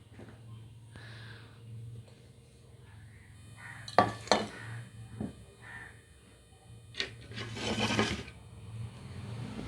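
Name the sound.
lifting the cover off the milk cake bowl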